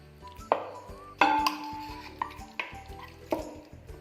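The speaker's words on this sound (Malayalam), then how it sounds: "അതിലോട്ടേക്ക് നമ്മുടെ ചിക്കൻ്റെ പീസ് ഓരോന്നായി ഇട്ട് കൊടുക്കാം." Chicken pieces dropped one at a time into a deep pan, each landing as a distinct clatter or knock against the metal, with softer scraping and clinks between, close and clear with no talking.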